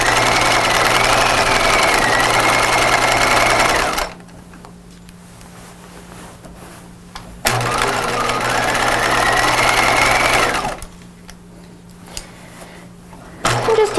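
A sewing machine stitches pajama fabric in two long, steady motorized runs with a quiet pause between them and a brief restart at the end.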